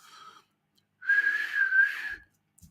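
A person whistles one sustained, wavering tone for about a second, close and clear, after a brief softer whistle, with no talking.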